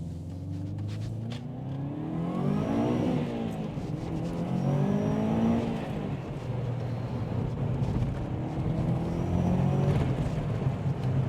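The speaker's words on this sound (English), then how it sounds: "that engine really is strong and it spins up so quickly the last few revs" A Subaru Impreza P1 engine revs hard while driving on the road, a close, loud surging growl climbing quickly through the revs toward the limiter in repeated pulls, with gear-change dips between.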